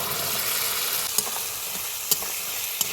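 Boiled potatoes and peas fry in a spiced masala in a pan, giving a steady close sizzle broken by a few sharp spoon clicks against the pan.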